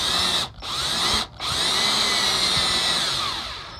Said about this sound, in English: I went up to this just to drill more of like a pilot hole